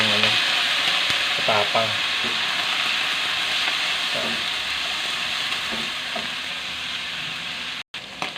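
Beef sautéing with a little bile for Filipino papaitan sizzles steadily and loudly in the pan throughout, with faint stirring and a few brief spoken words over it.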